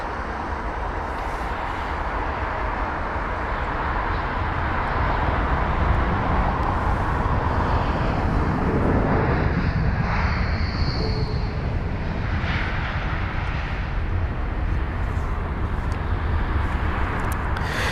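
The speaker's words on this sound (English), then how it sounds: "Here's our A321neo now" A British Airways A321neo arriving to land at London Heathrow, a continuous jet roar that builds and peaks midway with a brief high whine, heard near and loud against steady background noise.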